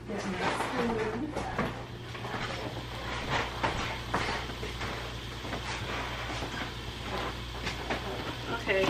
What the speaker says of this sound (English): as you can hear, it's sizzling